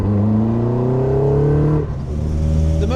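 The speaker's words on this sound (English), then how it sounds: "you generally get a bit more of that vibrating from a Duratec engine than you do anything else" A Caterham fitted with a Duratec engine runs at a steady, loud drone with a buzzing vibration. The note dips briefly near the middle, then carries on with no voices.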